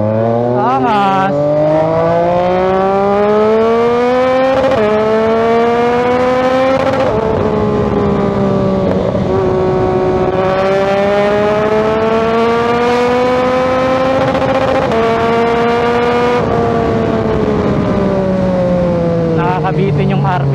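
A Yamaha XSR900 motorcycle engine revs and holds high, its pitch rising and dipping in long sweeps, loud and close, with no talk over it.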